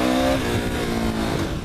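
A KTM 1190 Adventure motorcycle ridden in sport mode, accelerating wide open in first gear, with a loud, steady engine roar that climbs in pitch and holds near the listener throughout.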